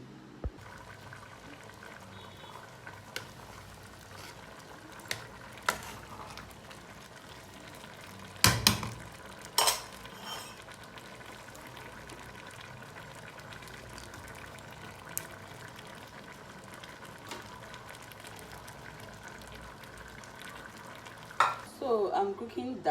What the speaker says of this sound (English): I'm cooking beans and plantain.